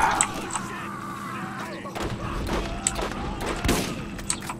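Grenades explode in the Borderlands video game, a run of heavy booming blasts and thuds spread across the clip amid other game noise.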